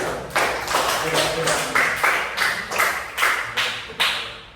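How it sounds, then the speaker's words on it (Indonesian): Rhythmic group clapping in a classroom lesson, a series of sharp, evenly spaced claps in unison, roughly two per second, loud and close, as students clap together on cue. "Tepuk tangan."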